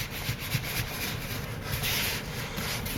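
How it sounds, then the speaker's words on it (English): Floured rye sourdough dough is shaped by hand on a bench, giving soft repeated rubbing and brushing strokes, close and fairly quiet, with nothing else heard. "I'm just going to gently kind of shape it with my hand"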